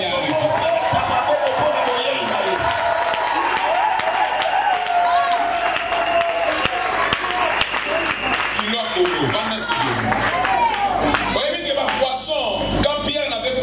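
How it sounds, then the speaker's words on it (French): Church congregation gives loud sustained applause and cheering for an arriving prophet, a dense crowd roar with whoops and shouting voices throughout. "Est-ce qu'on peut donner les deuxièmes acclamations parce qu'il est arrivé?"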